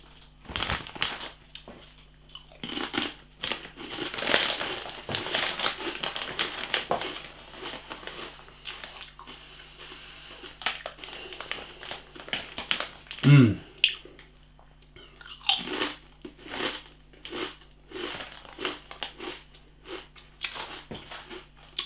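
A cheap bag of Nando's lemon pepper crisps is handled close to the mic, with crinkling packet rustles and crunchy bites and chewing, and someone talks softly over parts of it.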